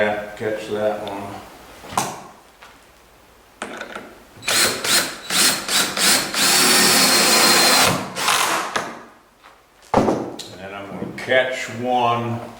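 A power drill drives into the wooden boards of a skiff in several short bursts and one longer run, mixed with ratcheting clicks, while someone talks between the bursts.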